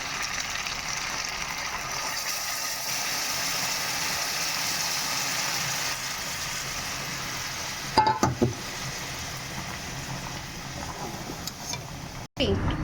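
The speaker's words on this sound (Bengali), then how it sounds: "গরম জলটা চিকেনের মধ্যে দিয়ে দেবো।" Hot water poured into a pan of fried, spicy Bengali chicken, making a loud, steady hiss of sizzling that runs throughout, broken by a few brief clatters of the pan.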